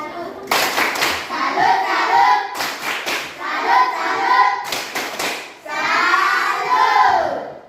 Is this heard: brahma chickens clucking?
no